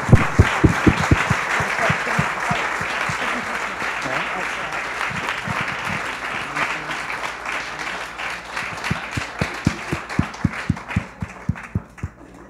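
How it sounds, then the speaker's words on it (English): A conference audience at a plenary panel on open education gives a sustained round of applause for panelists coming up, steady clapping that thins toward the end into scattered individual claps. "can we give them a round of applause as well"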